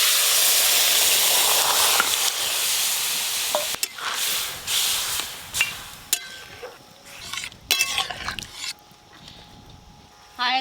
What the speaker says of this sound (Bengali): পেঁয়াজগুলো এই দেখুন একটু হালকা করে ভেজে নিয়েছি, এবার ছকে দেব।